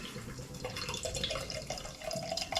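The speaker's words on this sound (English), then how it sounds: "So let's get it out the can, get it in the glass" Sureshot Helles, a light, clear lager from a Manchester brewery, is poured from a can into a glass, giving a short, fizzy trickle and splash heard close and alone.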